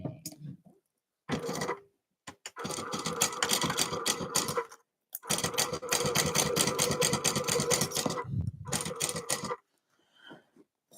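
Sewing machine stitching a tote bag in several bursts of rapid mechanical chatter, separated by short pauses, with faint handling sounds between runs.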